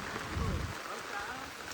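Steady rain pours down in a continuous hiss, with a faint low rumble underneath.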